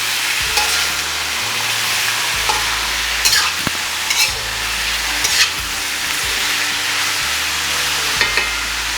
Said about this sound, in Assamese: এতিয়া মই গাহৰি মাংস এতিয়া ভাজি আছোঁ অলপমান